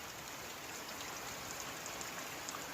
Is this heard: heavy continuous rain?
yes